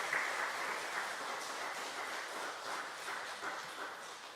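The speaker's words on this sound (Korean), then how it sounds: "우리 큰 박수로 환영해 주시도록 하겠습니다." A church congregation at a Sunday service applauds to welcome returning members, a broad, even wash of many hands clapping, somewhat distant and fading gently toward the end.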